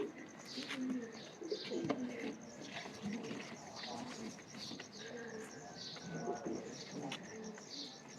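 Pigeons cooing in a loft with teddy and crossbred birds, a steady mix of low coos and chirps from several birds, with faint talk in the background.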